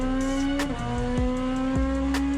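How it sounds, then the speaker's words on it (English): A DTM Class 1 race car with a 2-litre turbocharged inline-4 engine holds a loud, steady high-pitched engine note up close, with brief sharp shifts and downshift blips cutting through it. "The cars used a 2-litre turbocharged inline 4 engine, producing roughly 580 to 610 horsepower"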